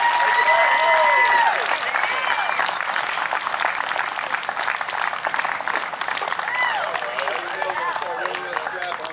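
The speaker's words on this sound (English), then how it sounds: "so give him a round of applause" An audience at a bluegrass event cheers a young banjo player with loud, sustained applause and clapping, a few whoops rising over the crowd before the noise eases slightly.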